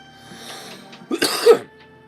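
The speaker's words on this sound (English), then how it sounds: "I'm sorry for the coughing" A short burst of coughing, two or three harsh coughs close to the microphone from a man, after a brief quiet throat sound.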